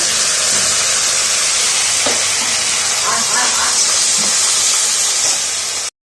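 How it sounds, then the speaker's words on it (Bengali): Ginger, garlic, onion and green chili paste dropped into hot oil for a spinach chicken dish, giving a loud, continuous close hiss and sizzle that holds steady for several seconds before cutting off abruptly. "এবার আদা রসুন পেঁয়াজ বাটা কাঁচা লঙ্কা বাটাটা দিয়ে দেবো"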